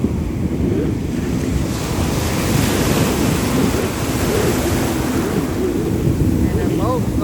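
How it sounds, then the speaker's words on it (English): Ocean surf churns and breaks at Cocoa Beach during a powerboat race, a loud continuous wash of waves mixed with strong wind buffeting the microphone. "Waves, boats are kicking off, are pretty hard to stand up in."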